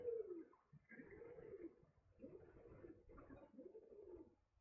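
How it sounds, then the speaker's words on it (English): Outdoors, a bird repeats a soft cooing call about four or five times in a slow, uneven rhythm. The calls are faint and distant against a quiet background. "Yeah, that is just some bird"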